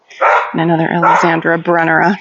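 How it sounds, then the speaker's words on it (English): A dog barks and yips in a Minnesota backyard garden in mid-May, mixed in with someone talking close by. "Sorry for the barking."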